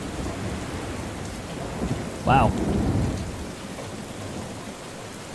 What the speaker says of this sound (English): That is some immersive thunder.